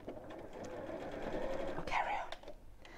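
A sewing machine runs steadily for about three seconds, stitching fabric around curves with a continuous whirring drone, close and fairly loud, with a brief change in tone near the end.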